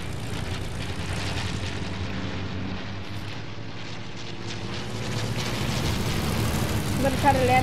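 Airplane flying overhead in Fortnite, a steady broad engine roar that holds throughout and swells slightly toward the end, with game noise and talk mixed in.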